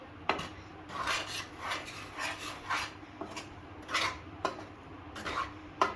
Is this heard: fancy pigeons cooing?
no